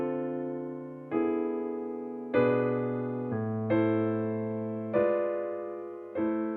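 Piano chords ring out one after another, each rolled quickly from low to high and left to sustain before the next, about six in all.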